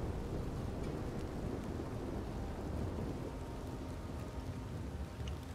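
Steady, heavy rain pours through a stormy scene in the video game Red Dead Redemption 2, with low thunder rumbling beneath it as one continuous wash of sound and no voices.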